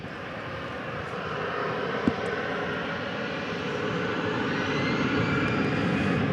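An American Airlines Airbus A320 takes off at DFW Airport, its jet engines making a broad, steady roar that swells gradually as it climbs away, with no voices present.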